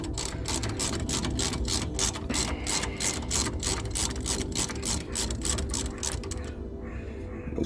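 A ratchet and socket loosening a bolt on a Ford Fusion front brake gives off a fast, steady run of close, loud metallic clicks over a low workshop rumble, then stops abruptly near the end.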